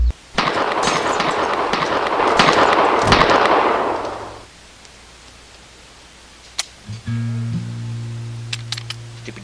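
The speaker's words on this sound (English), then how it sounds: "I loaded the shack full of bullets." A gun emptied into a shack as a sound effect gives a dense, loud rush of crackling shots for about four seconds, followed by quieter sparse clicks and a low humming tone.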